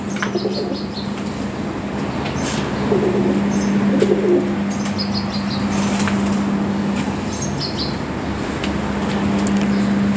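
Lahori pigeons coo softly in repeated low phrases against a steady background hum, with occasional wing flutters and faint chirps throughout.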